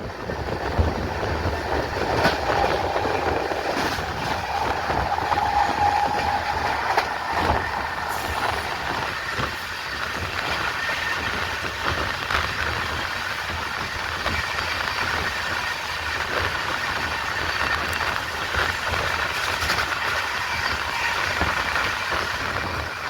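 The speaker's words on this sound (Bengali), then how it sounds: "22805 Bhubaneswar two Anand Vihar terminal express আমাদের চলে এসেছে" The 22805 Bhubaneswar to Anand Vihar Terminal Express stands at a station, with a steady loud rumble of engine and carriages, a low hum and occasional clanks throughout, and no talk.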